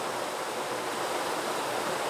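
Waterfall beside a turning water wheel at a covered bridge in Alabama, a steady broadband rush of falling water with no other sounds.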